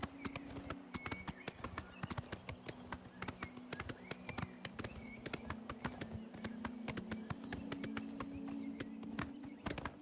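Brisk, rhythmic clip-clop of horse hooves at a steady trot in the video game Oblivion Remastered, continuous and close, over a low droning hum.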